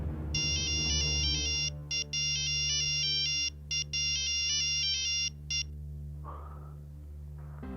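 A mobile phone ringtone plays a bright, repeating electronic melody loudly in several bursts separated by brief gaps, then cuts off, leaving a low room hum.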